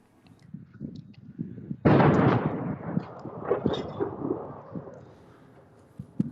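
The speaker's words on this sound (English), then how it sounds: "A loud explosion interrupted him even as he was speaking to CNN." A sudden loud blast goes off in a Ukrainian city under sustained attack, an explosion with a sharp onset followed by a long rumbling decay and scattered cracks.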